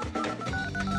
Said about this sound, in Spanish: ya mismo la voy a llamar por teléfono a ver dónde anda